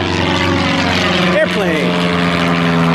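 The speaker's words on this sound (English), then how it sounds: "Airplane!" Propeller airplane flying overhead near a municipal airport, a steady droning engine with a rising and falling pitch sweep as it passes, loud and continuous over outdoor street ambience.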